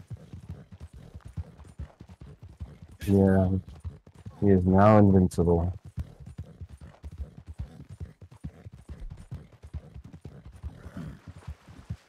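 Horse hooves clip-clop in a video game, a steady run of hollow, rhythmic clops going on throughout, with someone talking briefly in two short bursts near the middle.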